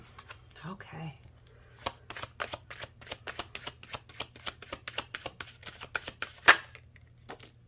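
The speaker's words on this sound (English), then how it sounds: "We'll get a couple more cards out from this deck." Tarot cards riffle and flick in a rapid train of crisp, close taps and snaps, a brief murmur at the start and one sharper slap near the end.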